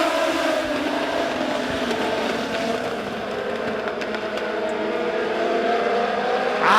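Legend race cars at a Springfield Raceway A-Main pulling away from a slow green-flag start, a dense wall of engine drone and rising revs from the pack, steady and loud throughout with no talk.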